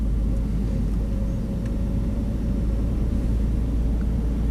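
Steady low engine rumble and road noise from inside a learner-driver car approaching a roundabout in Sieradz, continuous and even throughout with no voices.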